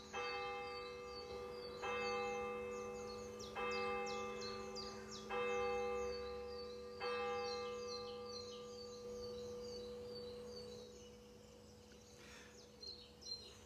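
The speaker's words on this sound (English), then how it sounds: "And hear now the bell of St. Cuthbert's Church, vying with the pheasant in the background as well." Church bell of St. Cuthbert's Church chiming nine o'clock during Holy Week, with four loud, ringing strikes about two seconds apart that fade into a sustained hum, while birds chirp and a pheasant calls faintly in the background.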